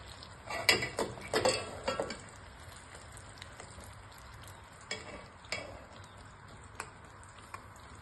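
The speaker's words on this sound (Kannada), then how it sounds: "ಚೆನ್ನಾಗಿ ಮಿಕ್ಸ್ ಮಾಡ್ಕೊಳ್ಳೋಣ." Gram flour gets stirred into hot sugar syrup for Mysore pak, with a cluster of scraping, clinking spoon-against-pan strokes up front, then quieter intermittent scrapes and a soft sizzle, close up and without talk.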